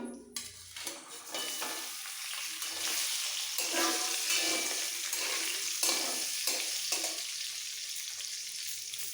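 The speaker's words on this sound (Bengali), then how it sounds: "এর মধ্যে দিয়ে দেবো আগে যে ভেজে রেখেছিলাম গাজর পেঁপে আলু" Fried carrot, papaya and potato pieces tipped into a hot pan of oil for coconut sukto, bursting into loud, steady sizzling with scraping stir strokes, close by and with no voices.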